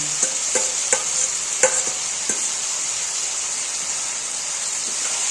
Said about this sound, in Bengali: তো এই পর্যায়ে আমি এবার এই ফুলকপি, আলু, গাজর এটা ছেড়ে দিলাম।